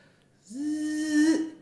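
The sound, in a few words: voice imitating dental drill handpiece spinning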